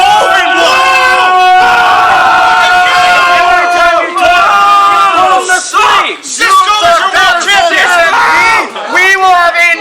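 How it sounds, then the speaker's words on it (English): A packed wrestling crowd at a Wilkes Barre Wrestling event roars and cheers for the champion, a dense wall of shouting voices that stays loud throughout, with brief dips before surging again. "when I say the champ, you guys cheer"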